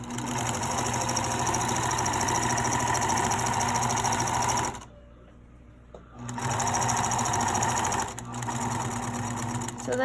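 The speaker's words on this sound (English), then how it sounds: "And then you start sewing down to the edge." A sewing machine stitches fabric down to the edge, a loud, continuous buzzing hum that stops for about a second and a half, then resumes with a short break before running on.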